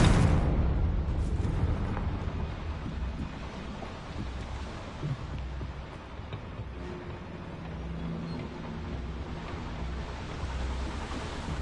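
A Confringo spell explosion in Hogwarts Legacy bursts loudly at the start, then fades into a long rumbling, wind-like roar that lingers and swells faintly.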